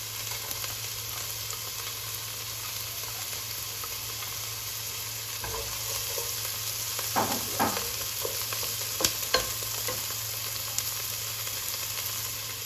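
A steady, quiet sizzle of vegetables, including celery, sautéing in a pot for soup, with occasional stirring clinks and scrapes, and no talking.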